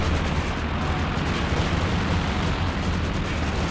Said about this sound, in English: Grenades being exchanged both directions